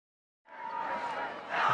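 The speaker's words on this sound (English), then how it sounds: "See the Andover Central crowd trying to rally their team" A crowd cheers at a high school football game involving Andover Central in Kansas, a faint, distant roar that rises after near silence and swells slightly toward the end.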